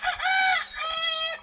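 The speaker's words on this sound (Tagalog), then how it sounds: "Dami talagang manok ni uncle ayo." A rooster crowing close by in a Philippine rural yard kept for cockfighting, one loud, drawn-out two-part call lasting over a second and standing alone.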